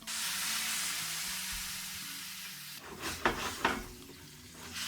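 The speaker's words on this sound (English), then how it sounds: "we'll deglaze with a bit of white wine." A hot paella pan holding chorizo hisses in a steady, bright sizzle, then white wine is poured in, setting off a few louder bubbling spits and crackles before the sizzle settles back down, close up.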